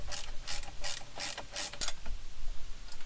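A ratchet turns bolts on a Kemimoto mirror mount for a 2022 Can-Am Maverick X3, clicking close and crisp in a quick run of strokes with brief pauses between them.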